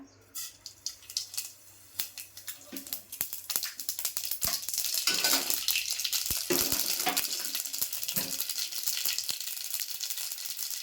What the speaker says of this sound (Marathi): आता मोहरी टाकते फोडणीला